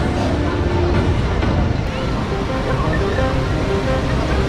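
Water fountain show at KLCC during an outdoor festival crowd: a dense, steady roaring rush of spraying water fills the whole stretch, loud and continuous, with crowd murmur underneath.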